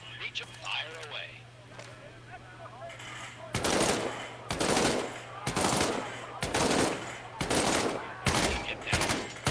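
Weapons fire in a VR military shooter game as a series of loud, sharp bursts at uneven intervals. Quieter game audio and voices come first.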